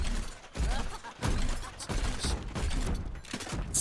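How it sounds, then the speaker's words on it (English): Rapid gunfire in the video game Overwatch on the Eichenwalde map: dense, continuous bursts of shots and clattering impacts that fill the whole stretch, loud and close with almost no gaps. "Spam some shots at the bridge right there."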